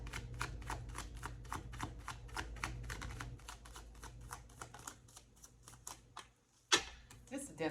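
Tarot cards being shuffled in repeated quick riffling bursts, close and steady, with a low hum underneath and a sharp knock near the end.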